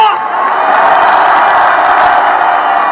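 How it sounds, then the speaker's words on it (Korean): A large crowd at an outdoor political rally in Korea cheers, roars and shouts continuously, loud and dense throughout. "또 우리의 함성이 들리십니까?"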